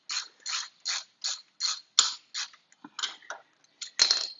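Ratchet wrench working bolts loose on the side plate of a vintage motorcycle, a rapid series of about a dozen short, crisp clicking bursts in an uneven rhythm, close up with no talk.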